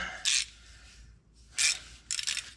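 A socket wrench ratchets in three short clicking bursts while a Ford Super Duty truck's transmission is being removed, close and fairly clear against a quiet garage background.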